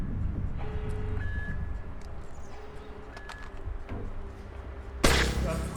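An electronic alarm beeps in the stealth action game Splinter Cell on Xbox, sounding as a few short, spaced tones over a busy background hum of game noise, before a sudden loud burst of noise near the end.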